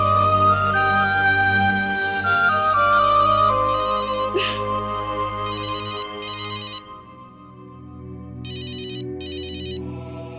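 A mobile phone ringtone plays a bright, repeating electronic melody with chiming tones that loops steadily for several seconds, loud and close, with no talking.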